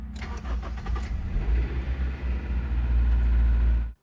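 A Honda CR-V engine cranks and fires for the first time after a part replacement, then settles into a loud, steady idle with strong low rumble close by, cutting off abruptly at the end.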